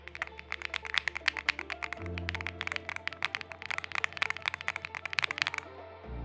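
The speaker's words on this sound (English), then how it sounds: "Acoustics, like listen to the keyboard again." Close, quiet typing on a Hex80 mechanical keyboard gives a rapid run of crisp clacks with brief pauses, heard alone over a low background hum.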